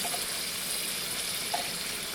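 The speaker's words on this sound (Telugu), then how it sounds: "ఇందులో ఆనపకాయ ఉడకడం కోసం వాటర్ వేసేసి" Water pours steadily into a pot holding bottle gourd pieces, a continuous close splashing hiss for about two seconds with a couple of faint clinks and no voices.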